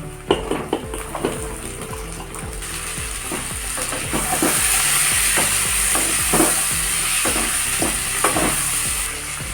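Potatoes tipped into a hot pan and frying for a fish curry made with singhi catfish, with a steady loud sizzle and repeated scraping, clicking stirs from a spatula; no one speaks.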